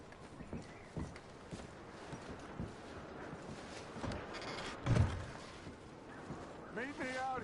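Horses' hooves clip-clop at a walking pace in Red Dead Redemption 2, scattered thuds and knocks under game ambience with speech heard at points.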